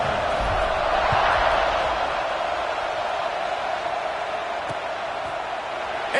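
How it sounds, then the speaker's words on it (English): College football stadium crowd at Tennessee versus Ole Miss buzzing after a score, a dense steady roar from many voices filling the space, loud and continuous. "this crowd is buzzing after that last score"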